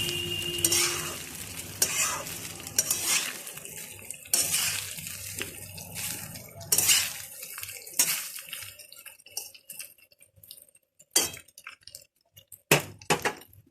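Soybean chunks for soya pulao are stirred in a pan of hot oil, with busy scraping and sizzling up close that thins out toward the end into scattered sharp clinks and scrapes.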